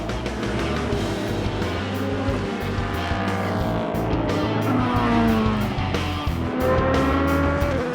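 Porsche 919 Hybrid endurance race car crossing the finish, a loud sustained engine whine with rising and falling pitch sweeps as cars pass close by, no talk.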